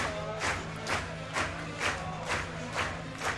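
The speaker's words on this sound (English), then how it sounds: "An active crowd here at the Friar." A crowd at an amateur baseball game cheers and shouts in rising bursts roughly every half second, steady and fairly loud in the open air.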